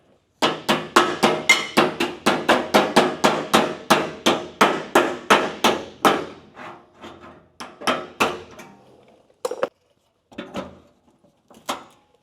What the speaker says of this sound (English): I've had to hammer and dolly a little bit of this stuff here